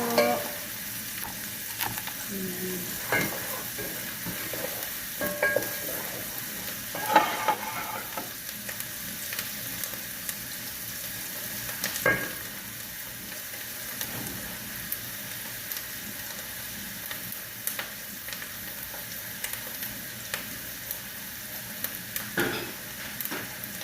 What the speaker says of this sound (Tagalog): ganito na gigisahin ko lang siya.